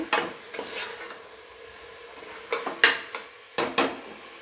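Tomato and spices frying in a pan are stirred vigorously, sharp metallic scrapes and knocks against the pan in clustered bursts over a low sizzle, close up with no talking.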